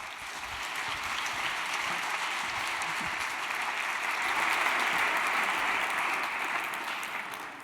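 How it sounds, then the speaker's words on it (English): A conference audience gives sustained, even applause for a speaker introduced at a talk on building robocars, a dense steady wash of many hands clapping from start to finish with no voices. "let's have a warm applause for Brad Templeton"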